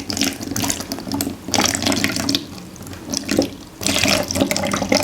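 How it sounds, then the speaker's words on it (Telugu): Tap water pours into a mug beneath a small portable air cooler's filter, a loud close gushing stream in three bursts separated by quieter gaps. "దీంట్లో మనం ఫస్ట్ నార్మల్ వాటర్ పోద్దాం."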